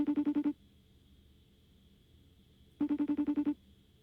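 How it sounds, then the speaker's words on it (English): A FaceTime call ringing on a phone: two bursts of a rapid, pulsed ringtone separated by a quiet gap, fairly faint and with no voices. "I'm just gonna FaceTime her."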